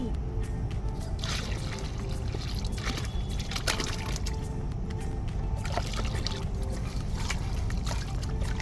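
Water poured out of a container at home, a steady splashing trickle that runs the whole time over a busy, noisy background, fairly close.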